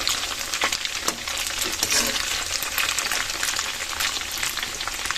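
Water spinach (kangkong) frying in very hot oil makes a dense, continuous sizzle with crackles and occasional stirring scrapes, close and loud, with no voices.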